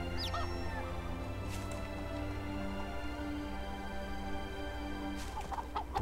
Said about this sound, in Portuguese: Olha os pintinhos aí, cuidado para não pisar.